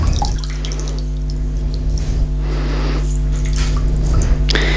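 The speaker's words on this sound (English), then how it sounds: "So I'm going to squeeze out the water, bring it over the sink" Dyed yarn squeezed by hand over a sink, giving wet squishing and dripping water sounds in a few pulses over a steady low hum, close and without talking.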